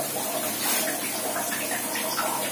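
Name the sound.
pouring hot water into a cup to make coffee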